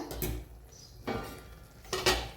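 A lid clanks down onto a pan of ridge gourd vegetable on the stove: three short metallic knocks at close range, spaced about a second apart, with quiet kitchen hush between them.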